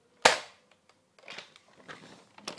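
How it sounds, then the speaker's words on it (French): A Nerf Retaliator blaster fires once with a loud, sharp close crack, followed by softer clicks and rattles from handling the mechanism. No one speaks. "Ça, c'est le bruit du Retaliator."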